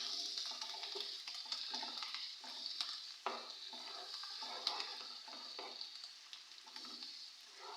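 Ginger garlic paste fries in oil in a pan while being stirred to brown it, giving a steady close sizzle broken by repeated scraping strokes of the spoon against the pan.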